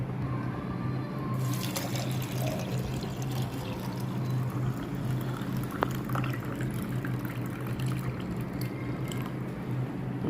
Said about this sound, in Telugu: ఇందులో నేను ఇప్పుడు గోరువెచ్చటి నీళ్ళు ఇందులో 300 ml వేస్తున్నాను